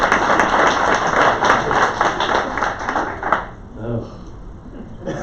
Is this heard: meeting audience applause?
yes